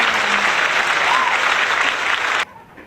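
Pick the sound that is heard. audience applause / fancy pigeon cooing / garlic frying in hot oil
audience applause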